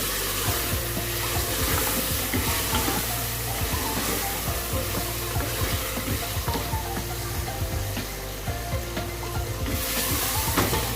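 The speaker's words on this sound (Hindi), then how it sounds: "धनिया, सुरख मिर्च पाउडर है और ये गरम मसाला डाल के इनको अच्छा सा भूनेंगे।" Mutton sizzles loudly in a pan with coriander, red chili powder and garam masala, a steady, close frying hiss broken by scraping stirs.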